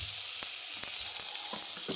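Oil and butter sizzle in a hot kadai for butter paneer, a continuous bright crackling hiss with small pops scattered throughout, close up and with no talk.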